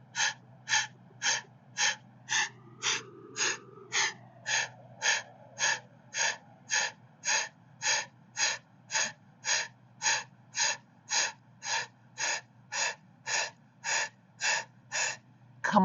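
Rapid breath of fire breathing held in an elbow plank during a yoga flow, a long even train of about thirty sharp nasal exhalations at a brisk steady pace, close and clear.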